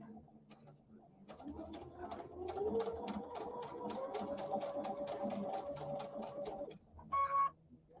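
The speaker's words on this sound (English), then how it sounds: "I'm going to just backstitch just a little bit" A sewing machine stitches fabric in a fast, even run of several seconds before stopping, followed by a short, brief burst of stitching.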